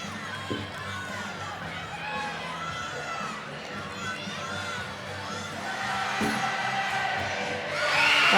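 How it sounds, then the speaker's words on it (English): A gymnastics arena crowd at an LSU vs Florida meet cheers and shouts continuously, swelling louder near the end, while a commentator talks over the noise. "the crowd is going wild"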